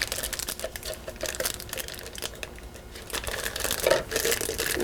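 A plastic bag being fitted over and held open in the cut-off bottom of a plastic jar, crinkling and rustling loudly and continuously at close range, with no one speaking.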